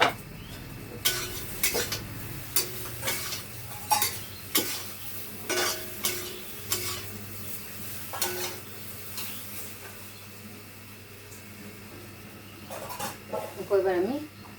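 Fried raw banana pieces tipped into a hot pan and stirred, a series of metallic spatula scrapes and clanks over a low sizzle, with a voice speaking briefly near the end.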